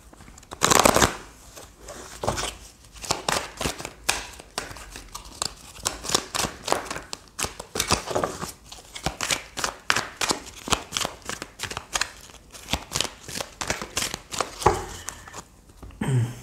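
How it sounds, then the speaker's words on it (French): A deck of tarot cards is shuffled close to the microphone in fast riffling bursts and repeated papery flicks, cards slapping and sliding almost continuously for several seconds, with no talking. "Allez, on va tirer d'autres cartes du tarot."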